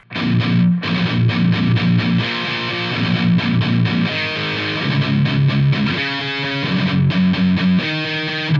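Distorted electric guitar plays the next section of a song, chugging loud, steady bar chords in a repeating pattern, alone and close with no talking.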